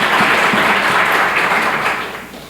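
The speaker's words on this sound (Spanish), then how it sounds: "Denle un fuerte aplauso al Señor" A church congregation gives a loud round of applause, with many hands clapping together at close range before the sound tapers off toward the end.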